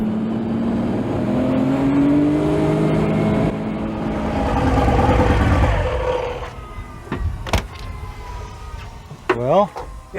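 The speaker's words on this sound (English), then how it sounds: "you heard all the backfire and all that?" Porsche 935 race car engine running boggy, a loud sustained roar with rising revs, then sharp popping and cracking backfires from the exhaust in the closing seconds.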